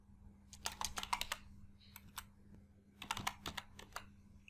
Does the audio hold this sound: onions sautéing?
no